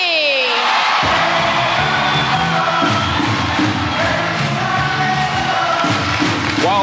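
A 1997 Gladiators studio crowd sings and cheers steadily after a brief rising tone, with rhythmic music-like chanting and thuds under the loud, continuous roar.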